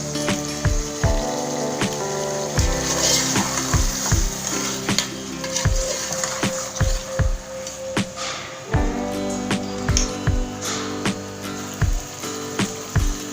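Beef and potatoes with green chillies frying in a pot, a dense continuous sizzle broken by rhythmic scraping stirs and knocks of the spoon, close and loud with no talk.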